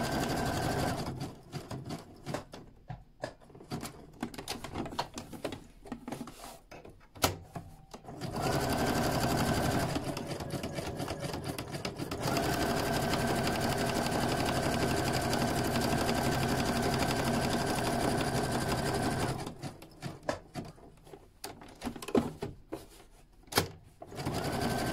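A sewing machine stitches a fabric book bag, running in long steady whirring stretches broken by pauses and clicks as the needle is set and the work is turned at the corners, with a few quiet words.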